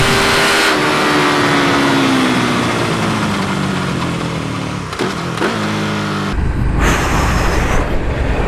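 A KTM Superduke 1290 R motorcycle engine revs up hard and climbs in pitch, drops briefly near the end, then snarls back up, loud and close, with no talking.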